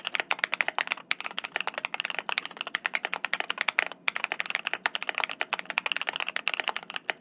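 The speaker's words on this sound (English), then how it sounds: "here we have what is considered the thockiest keyboard at Mecha" Fast continuous typing on a thocky mechanical keyboard, dense rapid keystrokes with deep muted clacks, close and steady with no talking.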